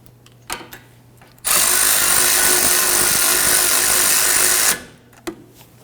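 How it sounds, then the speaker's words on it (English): A power tool snugs down the wheel hub bolt on a 2011-2023 Dodge Charger front suspension: one loud, steady whirring burst of about three seconds. Quiet workshop clicks come before and after it. "Going to install the bolt here for the wheel hub. I'm going to go ahead and snug that down."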